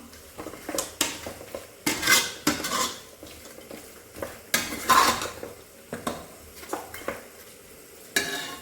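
Chicken pieces are stirred in a pot for a village-style pepper chicken curry, with repeated metallic scrapes and clanks of a ladle against the vessel over a soft sizzle, coming in uneven bursts.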